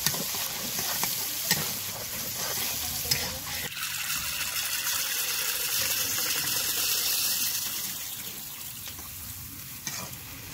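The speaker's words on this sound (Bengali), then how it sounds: "কুচানো পেঁয়াজ, পেঁয়াজটা লাল করে আমি প্রথমত ভেজে নেব" Chopped onions fry in mustard oil for chicken biryani, a steady close sizzle with stirring scrapes and clatter throughout, loudest in the middle.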